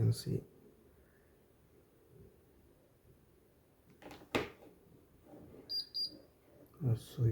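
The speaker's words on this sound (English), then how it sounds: "can see the buzzer is beeping when temperature goes above some level" A buzzer on a smart home control panel beeps in short high tones as a heat gun raises the temperature past a set alarm level, with faint background noise and a couple of clicks around it.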